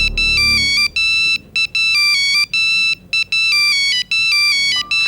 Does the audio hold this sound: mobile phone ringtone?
yes